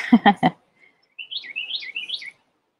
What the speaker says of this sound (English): The birds are out.